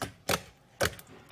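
Slime mixed with styrofoam beads gives two sharp, crisp clicking crackles, spaced about half a second apart, close and fairly loud with quiet between them.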